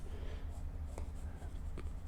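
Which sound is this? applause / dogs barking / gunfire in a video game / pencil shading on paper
pencil shading on paper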